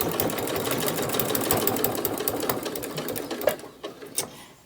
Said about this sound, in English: I'm just going to sew across, and I'm going to back stitch when I start and when I end